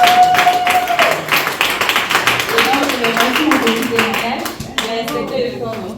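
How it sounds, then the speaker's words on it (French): An audience claps in a brisk burst of many hands, loud and close, with speech and a brief tone mixed in and the clapping thinning toward the end. "On l'applaudit."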